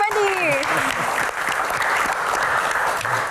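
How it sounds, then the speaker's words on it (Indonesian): An audience at a Q&A event applauds loudly to welcome Gian and Pak Muhadjir Effendi, a continuous wash of clapping with a brief voice and tones at the start. "Kita berikan tepuk tangan yang paling meriah untuk Gian dan Pak Muhadjir Effendi."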